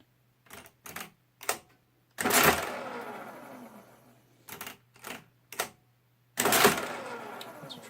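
A Marchant mechanical calculator runs through several bursts of clattering, ratcheting mechanism noise. Short clacks come in quick groups, and two longer whirring runs fade out gradually. The sound is close and fairly loud, with no talking.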